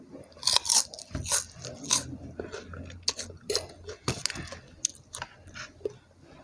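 Crispy pork rinds bitten and crunched up close, with sharp irregular crackling bites followed by steady chewing, no talking.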